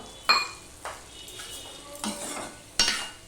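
Vegetable curry with tomato and a little water is stirred in a pan: several sharp scraping strokes of a utensil against the metal over a soft, steady simmering sizzle.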